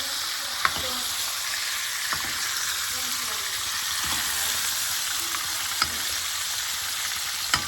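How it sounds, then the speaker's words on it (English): Strip steak sizzles steadily in a pan while being basted with butter, herbs and garlic, a loud continuous fry punctuated by occasional light spoon clicks against the pan. "We're going to take our big spoon and take our butter, herbs, garlic, and incorporate all that flavor in our steak"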